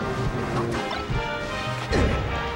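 A loud up smash lands in a Super Smash Bros. Melee tournament match, heard as a burst of crashing impact over dense crowd noise, with a second heavy hit near the end.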